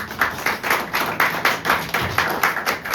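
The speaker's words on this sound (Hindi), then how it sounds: "जोरदार तालियां हो जाएंगी।" A church congregation at a women's Sunday service claps loudly in a steady rhythm, several quick, evenly spaced beats each second, crisp and close, repeating without pause and with no voices over it.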